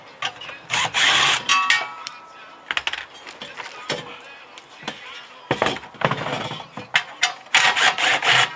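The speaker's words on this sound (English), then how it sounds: "Take off the bolt first." A bolt is loosened and removed from the front-end alternator bracket of a 1966 Chevy, with irregular metallic ratcheting, scraping and clinks of tools and parts, close and moderately loud.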